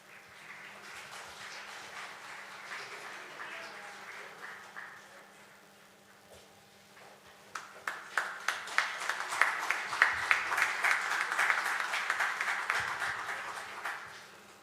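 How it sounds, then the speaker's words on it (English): Audience applause at an inaugural ceremony for a mediator and legal author, a soft, steady patter of clapping in a hall that swells louder and denser in the second half, with sharp individual claps standing out. "I request everyone to applaud."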